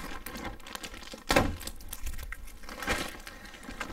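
Tape is peeled off the plastic bag wrapping a Chanson Miracle MAX machine during unpacking, close up, giving crinkly, crackling plastic noises with one sharper tearing rip in the middle among quieter rustling.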